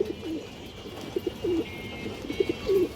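A male Indian high flyer Kaldam pigeon coos in soft, low repeated phrases, close by over a steady background hiss, with short pauses between the throaty calls.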